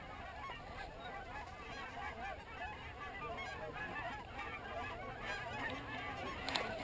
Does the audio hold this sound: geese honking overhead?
yes